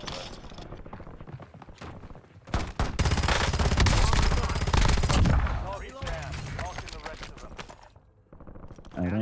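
Rapid bursts of automatic gunfire and heavy shooting from an online video game, loud and dense in the middle, with quieter footsteps and thuds around it and a voice speaking over parts of it.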